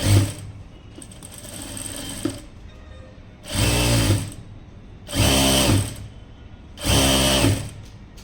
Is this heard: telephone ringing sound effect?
no